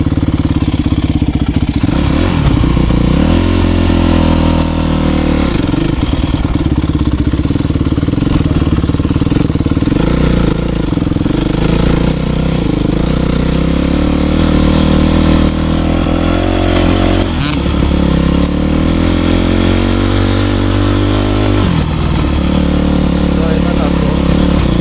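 A motocross dirt bike engine runs steadily throughout, idling and revving in rising and falling surges, loud and close, with people talking over it in a muddy outdoor setting.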